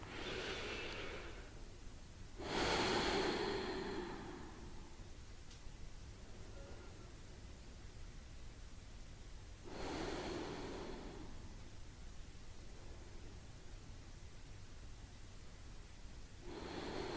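Slow breathing through the nose during a guided relaxation, each long airy inhale and exhale rising and falling like surf, heard up close and alone with quiet pauses between breaths.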